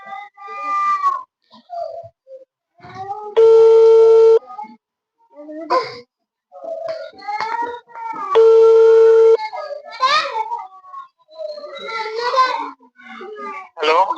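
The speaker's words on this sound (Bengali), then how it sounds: "এখন ডাক্তার নাসার স্যারকে ইনচার্জ, ওনাকে আমি ফোন দিচ্ছি" Two steady ringback tones, each about a second long, play on an outgoing phone call to a doctor in charge at a health complex. People talk nearby between and around the rings.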